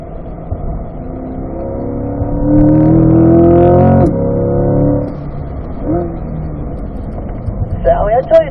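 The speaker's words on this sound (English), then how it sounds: "we keep hearing second gear." A C8 Corvette on a race track holds second gear, its engine droning steadily and swelling into a louder rise mid-clip before easing back, heard from inside the car with people talking over it.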